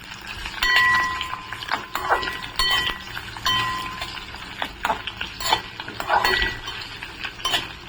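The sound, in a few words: sliced onion sautéing in oil, stirred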